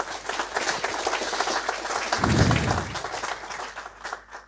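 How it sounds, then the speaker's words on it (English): Audience applause at a medical ethics talk, a dense burst of many hands clapping that swells midway with a heavier low thump, then thins and fades out toward the end. "I think that applause was for Elke and not for me"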